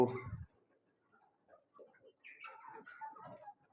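Desi (native breed) chickens cluck softly in a series of short, scattered calls after a brief louder burst at the start, fairly close and otherwise quiet.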